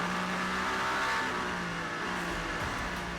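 A Toyota number 8 endurance race car's engine drones and revs steadily at Monza, with other engine noise blended in, a rising and falling mechanical roar heard alone and moderately close.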